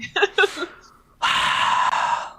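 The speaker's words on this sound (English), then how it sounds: "Yawn. I'm sorry." Someone gives a drawn-out, breathy yawn close to the mic, with a few short vocal sounds just before it.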